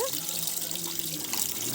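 Water runs and sloshes steadily while soaked rice is washed by hand in a vessel, a continuous close wash with no speech over it.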